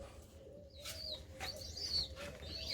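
Hand-fed baby birds give faint, scattered high chirps over a steady low background hum, with short peeps recurring irregularly across the moment.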